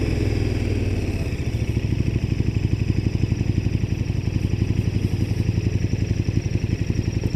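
Motorcycle being ridden, engine thumping in a fast, steady pulsing rhythm, loud and close, with a brief rise in revs at the start.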